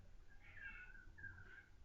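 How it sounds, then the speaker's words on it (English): A house cat meows twice in the background, two drawn-out, faint cries spaced about half a second apart in an otherwise quiet room. "Sorry, my cat in the background."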